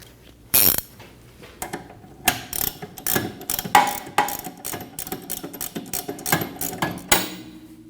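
A ratchet tightening a bolt through a rear shock absorber into the knuckle of a 2012-2022 Volkswagen Passat, with repeated clicking strokes and metallic clanks close by after one sharp knock.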